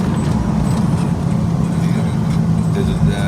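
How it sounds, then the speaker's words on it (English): A Cutlass Supreme's engine drones with a steady low rumble inside the car during a ride, heard from the cabin under a voice. "Y'all hear this motor, right? Sound healthy to me."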